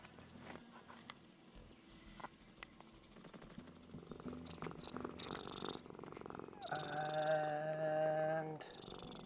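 A contented pet cat purrs softly near the microphone, a low rumbling purr under faint background noise and household movement that grows a little louder toward the end.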